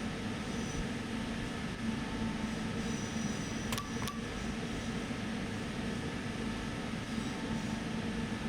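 A 34WE EMU electric train in the SimRail simulator rolls along with a steady, continuous rumble and hum, holding an even level throughout, broken only by a couple of brief sharp clicks midway.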